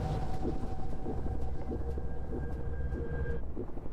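A steady low rumble of a train drawing near in the horror video game ROT, with a faint sustained whistle-like tone and rhythmic clanking over a dense mechanical drone.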